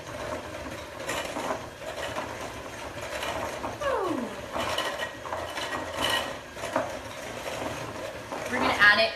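Dry vanilla cake mix being stirred in a bowl, giving soft scraping and rattling utensil sounds with a brief ratcheting whir, close and moderately loud.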